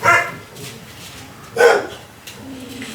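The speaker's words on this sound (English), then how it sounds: "What are we barking at?" A dog barks twice, close by, with a short pause between the two loud barks.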